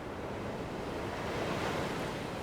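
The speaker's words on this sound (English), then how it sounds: "The waves are just stunning." Ocean waves wash steadily onto shore in a continuous broadband roar, swelling slightly mid-way, with light wind noise on the microphone and no voices.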